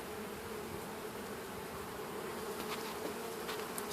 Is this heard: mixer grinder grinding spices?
no